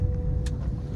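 A car's low engine rumble and road noise sound up close as it makes a slow 90-degree left turn into a home driveway, with a brief faint hiss partway through.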